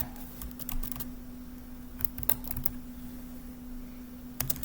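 Keys clatter in short bursts of typing on a computer keyboard while Python code is entered, the clicks close and crisp against a steady low hum, with pauses between bursts.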